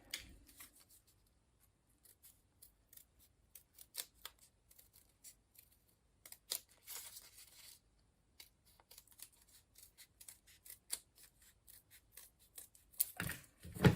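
Scissors snip through paper to cut out a shape, a series of quiet, irregular crisp cuts and rustles separated by brief pauses, close up with no talk.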